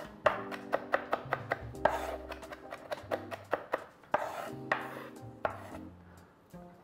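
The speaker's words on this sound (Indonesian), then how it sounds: "tinggal dicop saja. Seperti ini ngecopnya." A knife chops vegetables finely on a cutting board in a kitchen, a rapid series of sharp, close taps in uneven bursts with brief pauses, heard alone without talk.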